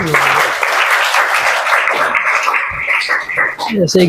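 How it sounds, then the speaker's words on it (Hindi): Students applaud together in a classroom gathering after being asked to clap, a steady dense patter of hands lasting several seconds, with voices and chatter mixed in and rising near the end. "ताली बजा दो भाई।"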